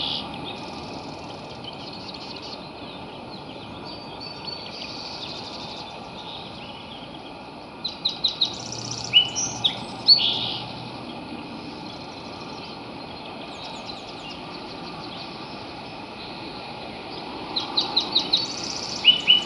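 Red-winged blackbirds call from a marsh: a few clear chirps and trilling bursts in short clusters, moderately distant, over a steady low background hum.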